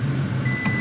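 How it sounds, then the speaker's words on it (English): A 2021 Ford Ranger Tremor sounds a single sharp electronic warning beep inside the cab, a clear steady tone entering midway over a low idling engine rumble. "She's just gonna keep beeping at me, I think."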